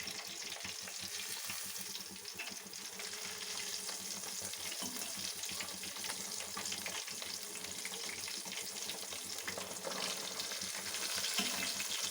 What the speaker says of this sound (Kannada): ಈ ಸೈಡು ಕೂಡ ಹೀಗೇ ಒಂದು 5 ನಿಮಿಷ ಲೋ ಫ್ಲೇಮ್ನಲ್ಲೇ ಬೇಯಿಸ್ಕೊಳ್ಳೋಣ.